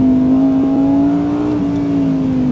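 A Lamborghini Huracán Sterrato engine drones loud and steady from inside the car, a sustained rising and falling note with a brief gearbox shift, no voices over it.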